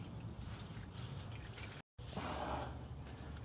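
Engine oil from a 5.3L V8 in a 2007–2014 Chevy Tahoe drains from the pan in a steady liquid trickle and drip, with a brief silent gap partway through.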